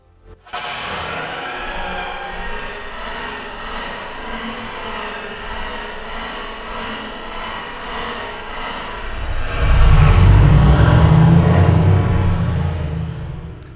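A starter motor cranks an engine in steady rhythmic pulses for several seconds until it catches and settles into a deep, loud rumble.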